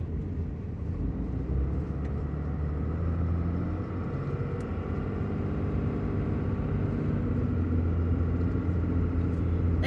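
A car travels a forested mountain road, heard as a steady low rumble of engine and tyre noise from inside the cabin, continuous and unbroken for the whole stretch with no talking.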